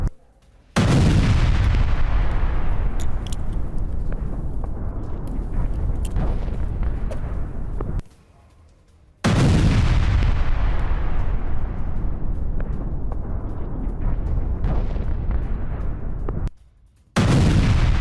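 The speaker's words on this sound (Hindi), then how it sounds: "यूक्रेनी पोस्ट पर फैब 500 गाइडेड बम गिराए गए" FAB-500 guided bombs explode on Ukrainian military posts in two long stretches of loud, roaring blast noise with rumbling low end. A brief drop to near silence separates the two stretches.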